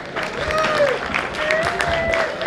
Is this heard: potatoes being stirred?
no